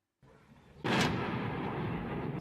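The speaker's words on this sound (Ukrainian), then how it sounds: "Під залпи та вибухи прокинулися сьогодні жителі Донецька, Луганська, Алчевська та невеликих міст" Artillery salvos and explosions over Donetsk: a faint distant rumble swells into one heavy booming blast around the first second, then a long rolling roar sustains at steady loudness.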